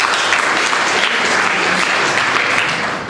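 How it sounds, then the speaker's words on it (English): A studio audience claps steadily for about three seconds, a dense, loud wash of applause given as a vote on a quiz show, tapering slightly at the end. "Maybe the audience, again by clapping."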